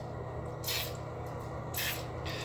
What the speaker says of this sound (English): We're going to spray a little bit of lubricant in our holes that we're going to be using.